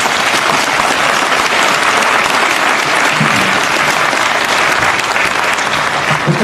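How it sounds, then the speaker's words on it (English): A crowd at a chamber of commerce annual membership meeting gives its panelists a steady, full round of applause, dense clapping sustained throughout with no break. "a round of applause for our panelists"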